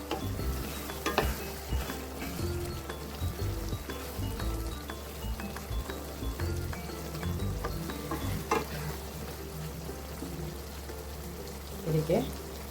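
Paneer masala gravy simmers and sizzles in a pan with a steady broadband hiss, punctuated by occasional stirring scrapes and clinks, while a voice talks faintly in the background.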